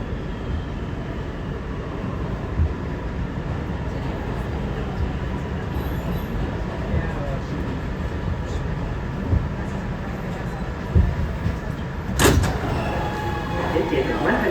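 An R211A C local subway train in New York rumbles steadily along the track, with wheel clatter, a sharp brief squeal or door sound near the end, and onboard announcements spoken over the din.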